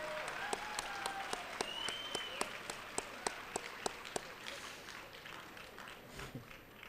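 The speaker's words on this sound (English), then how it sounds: "Let's give Mr. Daniel a round of applause." Sustained audience applause at a teacher-recognition awards gala, a dense wash of clapping with a few sharp, closer claps standing out at regular intervals before it thins toward the end.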